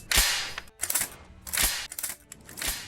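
A few sharp, close gunshot-like cracks from Doctor Who: The End of Time, spaced unevenly with brief mechanical clicks between them and no voices.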